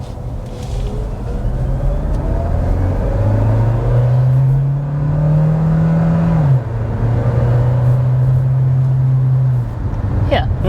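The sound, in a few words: Kia Sportage hybrid accelerating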